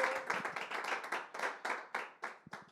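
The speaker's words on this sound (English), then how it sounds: "So, Anna, applause for Nicole, please." Small audience applause at a jazz show taping, a couple of dozen distinct hand claps in a loose rhythm, close and fairly sparse, fading to a few last claps.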